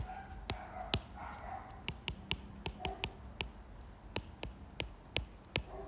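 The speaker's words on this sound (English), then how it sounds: "Can hear the dog barking in the background." A dog barks repeatedly in the distance, faint and muffled, mixed with sharp close tapping clicks at an uneven rhythm.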